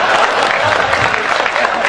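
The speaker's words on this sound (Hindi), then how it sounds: "संपत जी आप भी ताली बजाओ" Audience applause at a Hindi poetry recital with poet Hariom Pawar: a dense, steady wash of many hands clapping, loud and continuous throughout the moment.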